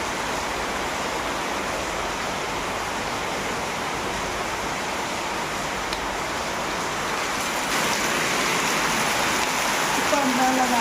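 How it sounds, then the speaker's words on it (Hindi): Heavy rain pours at night outside a house with water getting inside: a dense, unbroken roar of downpour close by, with a brief voice at the very end. "1 घंटे से बारिश हो रही है।"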